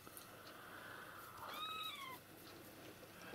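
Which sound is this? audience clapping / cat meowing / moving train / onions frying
cat meowing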